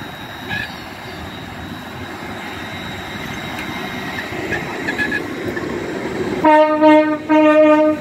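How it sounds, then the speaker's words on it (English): An LNER class 801 train departs London King's Cross with a steady rumble of wheels and engine, then sounds two loud blasts of its horn near the end. "departing now will be 801 208 to Edinburgh from London King's Cross"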